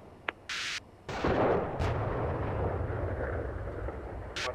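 Incoming fire in a tank video game: a sharp crack and a short burst, then a heavy booming impact that rolls into a sustained low rumble, with one more crack at the end. No one speaks.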